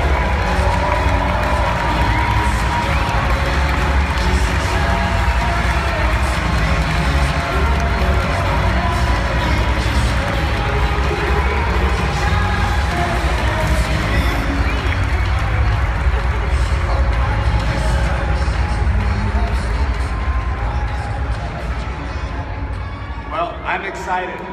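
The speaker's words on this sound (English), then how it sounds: "Big round of applause, please." Large convention audience at a corporate global gathering applauding and cheering steadily for a panel's entrance, a dense sustained roar of clapping and shouts that continues unbroken, easing slightly near the end.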